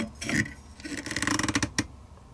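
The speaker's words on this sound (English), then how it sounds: "go ahead and just screw it in. Don't cross thread, just take your time." A modular stock is screwed by hand onto a Remington 700 rifle, giving close, rapid ratcheting clicks and creaking mechanical rattles in a brief burst.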